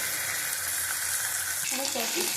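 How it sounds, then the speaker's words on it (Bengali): Rohu fish sizzles steadily in hot oil in a wok, a close, even crackle, with a voice briefly heard near the end. "মাছটা ভাজা হলে তুলে নেব"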